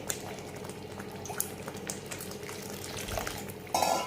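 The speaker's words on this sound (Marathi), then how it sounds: "याच्यात थोडंसं मी पाणी टाकते, जरा मला ग्रेव्ही घट्ट वाटते" Water splashes into a simmering pan of cashew curry gravy, with a steady bubbling hiss, a few utensil clinks, and a brief louder pour near the end.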